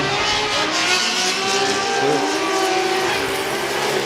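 A drift car accelerating hard at Fuji Speedway during a competition run, its engine roaring loudly and continuously, with a steady, dense rumble that holds through the whole stretch.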